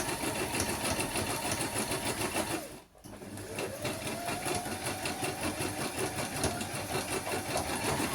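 Sewing machine doing free motion embroidery, a loud, fast mechanical whirr of stitching close by that stops briefly for a moment, then starts again and runs on steadily.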